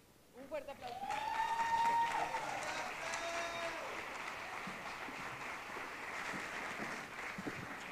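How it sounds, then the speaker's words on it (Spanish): A crowd at the Mexicana Universal Jalisco final applauds steadily for several seconds, with a sustained wash of clapping and cheering beneath a singer's held vocal line and band music. "Un fuerte aplauso."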